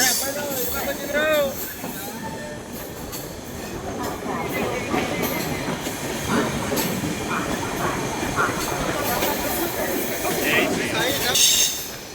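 Busy Ayodhya railway station ambience with train rumble and wheel noise, layered chatter and announcements under steady crowd murmur.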